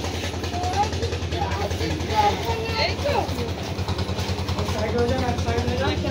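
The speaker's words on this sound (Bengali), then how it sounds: "চলে এসছে আমাদের ভটভটি।" A bhotbhoti motor boat draws near with a low, chugging engine throb at a steady rhythm, while people talk over it nearby.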